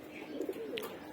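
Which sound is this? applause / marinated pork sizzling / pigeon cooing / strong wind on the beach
pigeon cooing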